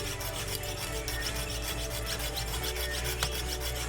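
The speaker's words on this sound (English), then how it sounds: "sawing is, like I said, the thing that takes the most amount of time" A hand saw cuts through steel with a continuous, rhythmic rasp of quick back-and-forth strokes, close and steady with no talking.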